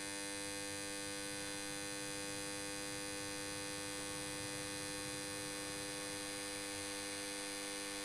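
A three-phase squirrel cage induction motor runs at no load on a lab test bench, giving a steady, even electrical hum with strong mains harmonics, constant throughout with no voices.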